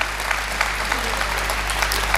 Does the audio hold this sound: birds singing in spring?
no